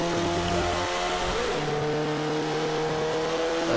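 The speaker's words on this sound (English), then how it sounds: "It sounds like the car is slow with this engine because you don't have the high RPMs" A car engine in Forza 5 drives continuously at a steady high drone with sustained tonal harmonics, one pitch shift midway as the revs change, loud and close with no talk over it.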